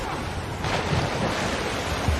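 Storm waves churning at sea in the film Life of Pi, a loud, unbroken rushing roar of water and wind with heavier surges swelling in partway through.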